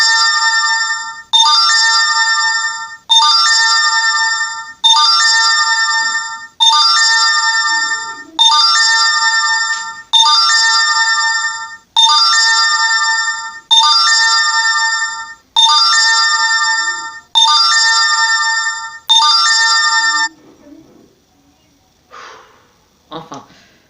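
A phone ringtone from an incoming call plays a bright, repeating electronic chime pattern, about ten loud identical bursts in steady rhythm, then stops, leaving faint breathing and small noises close by.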